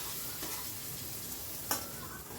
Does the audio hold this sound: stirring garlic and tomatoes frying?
yes